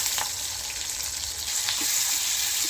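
Curry leaves crackling in hot oil in a kadhai, a loud continuous sizzle with a few sharp pops rising above it, close up and without voices.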